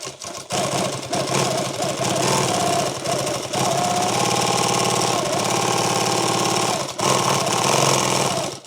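A powerful motor drives an industrial sewing machine stitching a large tool bag, running loud and steady with a dense mechanical whir and rapid needle clatter, briefly pausing near the end before starting again.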